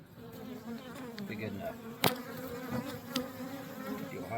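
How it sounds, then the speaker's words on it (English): Honey bees swarm around beehives in a continuous, fairly close buzzing drone, with a sharp clack partway through and a brief spoken phrase over the hum. "Got so many daggone bees, which is good."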